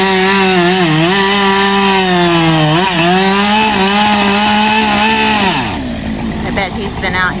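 A chainsaw cuts firewood, loud and close, its engine pitch sagging and recovering as it bites through the wood, then winding down near the end.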